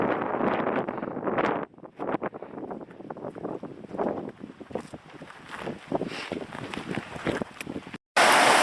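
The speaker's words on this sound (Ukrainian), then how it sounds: "Погода сьогодні трохи вітер віє." Gusts of wind buffet the microphone in bursts, rising and falling, with rustling and outdoor noise.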